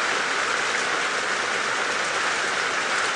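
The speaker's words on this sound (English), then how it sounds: "the rain is so loud at the moment" Loud, steady rain pours down during an evening safari drive, a dense unbroken hiss filling the whole stretch with no voices.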